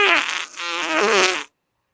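A single fart, loud and close, a buzzy, wavering blast lasting about a second and a half and ending abruptly in silence.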